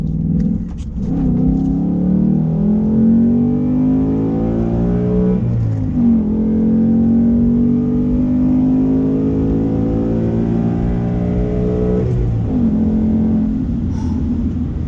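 A 2018 Ford Mustang GT with a 6-speed manual and Performance Package revs hard while driving, the V8 climbing through gears in three long pulls with brief shifts between, loud and close from inside.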